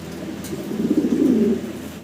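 Racer pigeons give a soft, rolling coo that swells and fades over about two seconds, close by and alone, with no talking.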